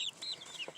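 Young backyard chickens give a few soft, high peeps and chirps in quick succession, fairly faint and close, with no talking.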